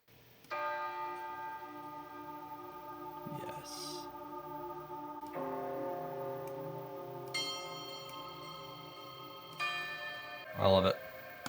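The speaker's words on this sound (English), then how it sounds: "Oh yeah, the church bells. That's what was released on Decent Sampler" Sampled church bells played from a Decent Sampler plugin instrument, several rich sustained bell tones struck in sequence with long ringing decays that overlap, clean and loud with a sharp metallic hit near the end.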